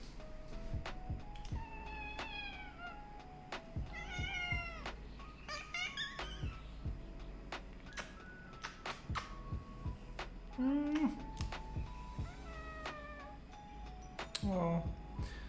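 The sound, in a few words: cat meowing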